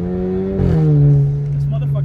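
A 2.0 Alfa Romeo Giulia with an ECU tune accelerates, its engine note climbing briefly then dropping as it shifts and pulls on at a steadier pitch, heard from inside the car.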